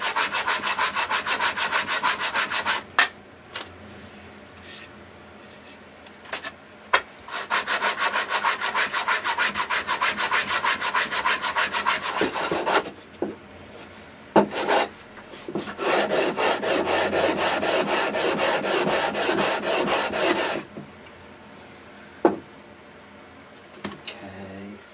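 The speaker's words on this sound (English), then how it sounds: "120 on the sanding block for the back of here" A guitar back is sanded by hand with a 120-grit sanding block, producing long runs of fast, loud, rhythmic rasping strokes broken by a few short pauses and knocks.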